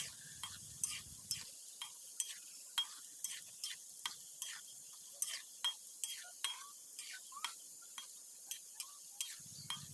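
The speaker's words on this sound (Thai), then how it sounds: "พอคุณแม่ทอดมาเรื่อยๆนะคะ เส้นพาสต้าก็เริ่มเปลี่ยนสีนะคะ" Pasta strands frying in hot oil while being stirred, giving a string of light scraping clicks at an irregular, fairly steady pace over a quiet background sizzle, close but soft.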